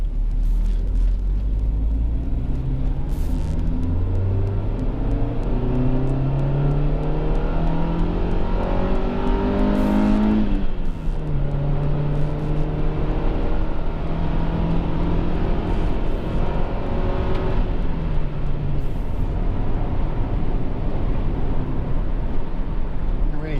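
Honda CR-X 1.6 ESi two-door accelerating along a narrow country lane, engine note rising and falling through gear changes with a steady rumble, heard from inside the car.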